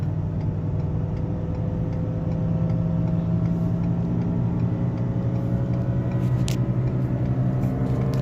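A 2019 Ford F-350 towing a load through a hairpin turn in the Rockies while downshifting, with a continuous loud engine and road rumble and a steady drone inside the cab, plus faint ticking.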